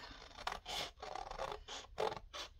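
Scissors snipping through paper to cut out a rabbit shape for an Easter tag, a close, quiet series of short creaking cuts in an uneven rhythm with brief pauses between them, no voices.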